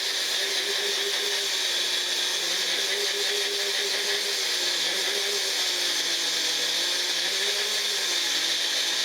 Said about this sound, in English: Put them in my blender here.